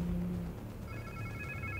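A mobile phone rings in Marvel's Spider-Man 2, its steady electronic tone starting partway through and continuing under a low game ambience with a faint hum.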